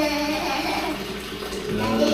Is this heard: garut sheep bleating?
no